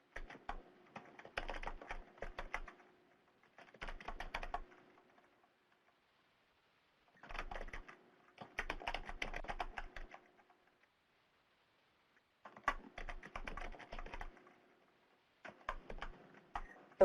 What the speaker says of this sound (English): So we hear those typewriters going